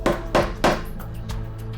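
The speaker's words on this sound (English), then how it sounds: "Put a fixing in one of the holes and hammer it down flush using the wooden dowel" Three sharp hammer blows tap a shutter fixing flush through a wooden dowel, in quick succession, then two fainter knocks follow, close and dry with short gaps between.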